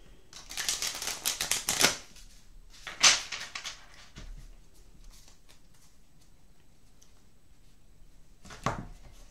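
A small, hand-sized tarot card deck being shuffled by hand: two bursts of riffling and flicking near the start, then quieter handling, and a final short shuffle at the end, close up.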